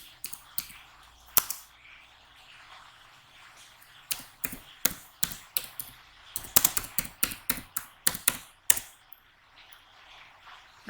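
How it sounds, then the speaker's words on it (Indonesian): Keys clatter on a computer keyboard as a PHP artisan migrate command is typed, sharp clicks arriving in quick irregular bursts with brief pauses between them, fairly close and alone. "Untuk menjalankannya kita bisa ketikkan lagi PHP artisan migrate."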